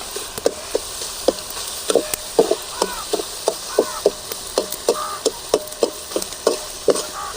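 Tomatoes and a round of salt sauté in a pan while a spatula stirs, producing a soft steady sizzle with regular scraping strokes about twice a second.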